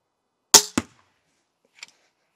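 A pistol crossbow is fired at a bear target outdoors, giving two sharp snaps in quick succession. About a second later a faint, distant knock follows.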